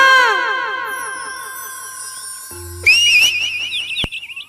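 Shrill whistle tones warble and slide, then a sharp higher whistle blast follows, loud and close.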